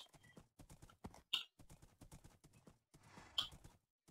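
Hooves clip-clop at a steady walking pace from a horse in the Minecraft video game, with a couple of brief whinny-like calls rising over the plodding steps.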